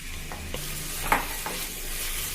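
Sliced onions sizzling in hot ghee and vegetable oil over high flame, a steady bright frying hiss with a few soft stirring knocks, close and alone without talk.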